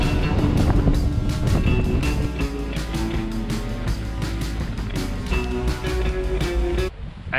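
Strong wind roars and batters the microphone continuously on a mountain-bike tour in the Piedmont Western Alps, a loud low rumble with rhythmic pulsing, ending in a brief lull.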